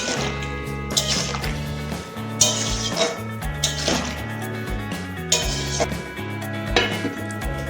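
Vegetables for Bengali shukto, fried eggplant, bitter gourd and bori, being stirred in a metal pot, with repeated scraping and clinking of a spoon against the pot over a background hum.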